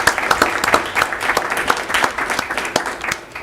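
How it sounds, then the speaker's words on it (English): Warm, sustained applause from the audience at a city council meeting in Chamblee, many hands clapping in a dense patter with a few sharper claps standing out, close and fairly loud throughout. "So we'd like to give a round of applause to all those folks that have made it through our Chamblee 101 program."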